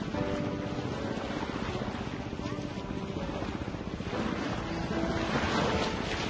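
A boat carries passengers across the open sea from Saint Martin island toward Chera Dwip. A continuous engine drone mixes with splashing waves and heavy wind buffeting the microphone.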